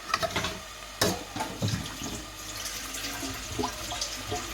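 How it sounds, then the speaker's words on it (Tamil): Water poured into a cooking pot in a home kitchen, with a splashing gush and a few clunks of vessels, close and continuous with uneven bursts. "தண்ணி விடணும் தண்ணி எடுக்கிறேன்"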